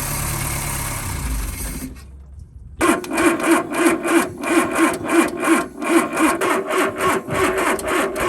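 A fuel line being cut during repair of a rusty barn-find Ford Cortina MK3: an engine idles at first, then after a short pause come close, steady back-and-forth sawing strokes in an even rhythm.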